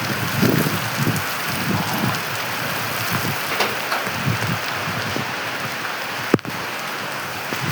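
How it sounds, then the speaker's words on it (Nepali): Heavy rain pours steadily during a bike ride, a dense, continuous close hiss of water with brief drop impacts and one sharp knock near the end. "पानी यत्रो ठुलो परिरहेको छ नि"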